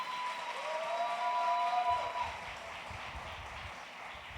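Audience at a neighborhood talent-show semi-final applauds for a contestant, a broad wash of clapping that holds steady and then thins toward the end, with a brief tonal whistle-like sound riding over the start.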